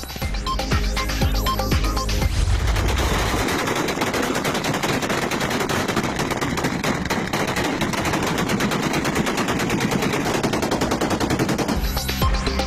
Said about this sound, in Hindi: बल्दियाती इलेक्शन में जीत की खुशी पर अंधाधुंध फायरिंग।